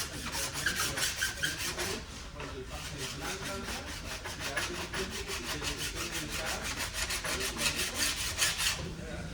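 Rust is scraped off a ski's steel edge in quick, rhythmic back-and-forth strokes, a close, steady rasping scrub that continues without pause.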